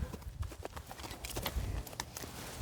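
Horse walking during a foundation training session, its hooves giving irregular clip-clop footfalls on the ground at moderate distance over a low outdoor background.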